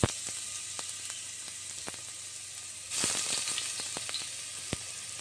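Crushed ginger and garlic with cinnamon and cloves sauté in hot oil inside a cooker. Steady close sizzle with scattered crackles and pops, swelling louder about halfway through, with no talking.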